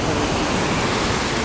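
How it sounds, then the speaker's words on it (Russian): Broad, steady roar of rough storm surf on the Black Sea at Lazarevskoye, loud and close, with continuous crashing water and no voices. "пришел на море показать вам шторм."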